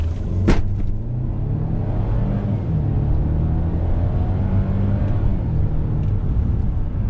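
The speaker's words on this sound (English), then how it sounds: "So we're gonna floor the throttle." A 2019 Mercedes-Benz GLC 300's engine roars at full throttle, a steady loud drone with rising harmonics and a brief sharp click near the start.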